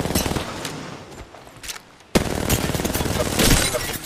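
Rapid bursts of automatic gunfire crackle in a ranked video game match, loud and dense, pausing briefly before a sharp shot and another sustained volley.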